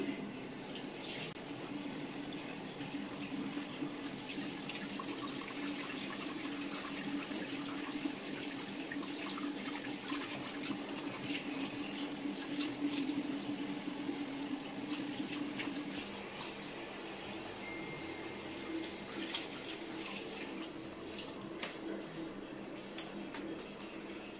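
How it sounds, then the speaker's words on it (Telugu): Running tap water splashes steadily in a sink during face washing at home, a continuous close watery hiss with occasional small splashes and no speech. "ఫేస్ వాష్ అయితే చేసేసుకుంటున్నా."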